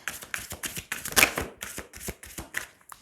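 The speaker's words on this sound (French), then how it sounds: "Allez, on va tirer 3 cartes." Tarot cards are shuffled close up in a series of quick riffling bursts, crisp papery flutters separated by short pauses, with no talking.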